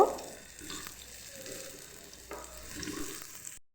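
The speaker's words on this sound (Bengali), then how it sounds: "মাছ ভাজার তেলের ভিতরে আলুগুলোকে আমি দিয়ে দেব" Potatoes frying in oil left over from frying fish give a soft, steady sizzle with light crackling and occasional stirring scrapes, close by and fairly quiet, with no talk.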